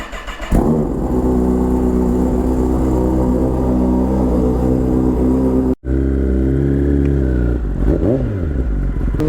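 A Kawasaki ZX-10R sport bike with an aftermarket exhaust barks to life and settles into a loud, deep, steady idle close by, briefly cutting out before the rumble resumes with a small rev.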